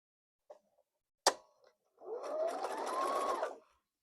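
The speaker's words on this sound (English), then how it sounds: "I'm going to sew this down just like before" A sewing machine stitches a seam with a 1/4 inch allowance on a flannel baby blanket strip, one steady run of about a second and a half, preceded by a sharp click and small handling noises.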